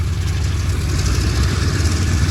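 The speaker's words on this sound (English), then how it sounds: "That's the engines rolling" Deep, continuous engine drone from the B-17 bomber Sally B as its radial engines run up at an airshow, a steady rumbling roar without talk.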